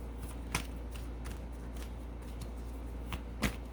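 A deck of cards is shuffled quietly, giving soft riffling flutters and a few crisper snaps over a steady low hum, with no talk.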